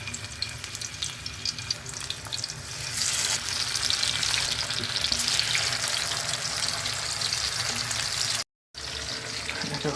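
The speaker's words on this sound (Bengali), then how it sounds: "এখন হচ্ছে আমি চিকেনগুলো ভাজবো। তেল গরম হয়ে গেছে, দিয়ে দিই এখন" Chicken drops into hot oil and a loud, dense frying hiss swells and holds steady close by, with a faint clatter of utensils, then a brief cut to silence near the end.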